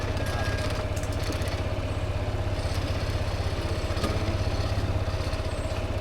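Motorcycles idle close by with a steady, even putter that holds a constant level throughout, with no talking over them.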